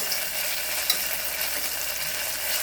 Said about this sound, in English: So there's some olive oil and I put garlic and onion inside.